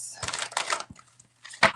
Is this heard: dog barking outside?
no